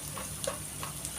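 Onions frying in a pan for a bitter-gourd dish give a soft, steady sizzle, faint and close, with light crackles and no voices.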